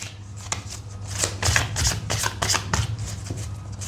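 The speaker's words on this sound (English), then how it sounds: "I'll just shuffle again." Tarot cards being shuffled by hand, a quiet, close run of crisp riffling and slapping bursts repeating in quick rhythm with no talking.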